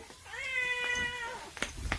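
A cat gives one long, clear, drawn-out meow close by, followed by a couple of soft knocks and clicks.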